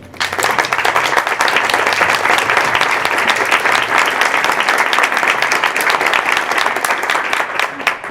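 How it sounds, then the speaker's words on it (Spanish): An audience at a psychoanalysis conference in Mexico welcomes the speaker with loud, sustained applause, a thick continuous wash of many clapping hands that stays steady throughout, with a faint low voice murmuring early on. "a quien recibimos con un aplauso"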